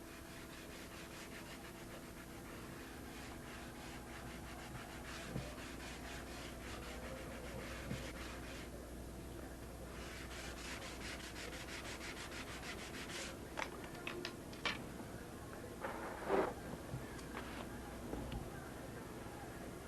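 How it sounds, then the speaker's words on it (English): Quiet, repetitive scraping strokes of sanding on wood, steady back-and-forth rubbing with a few louder scratches near the end. "I can work that curve in there"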